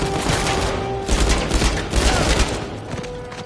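A machine gun firing in the video game Uncharted 4, a loud, fast volley of close shots over a steady game background.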